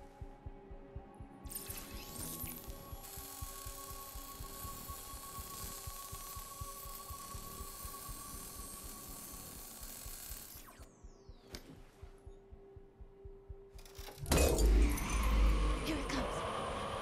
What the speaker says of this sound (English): Big laser saw.